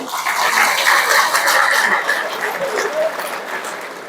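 Steady applause from an audience at a spoken talk, a dense even wash of clapping that holds for about four seconds and eases slightly at the end, with no voices over it.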